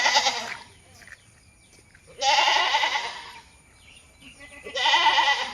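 JP cross goats bleating loudly and close by, with three drawn-out bleats spaced a couple of seconds apart and quieter pauses between them.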